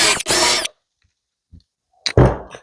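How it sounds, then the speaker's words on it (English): A power drill bores countersunk pilot holes into a 1x4 wooden board, two loud bursts of drilling separated by near-silence. "we're going to drill pilot holes with countersink"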